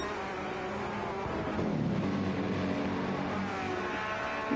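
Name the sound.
race cars driving through the Monza chicane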